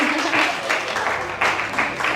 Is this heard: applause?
yes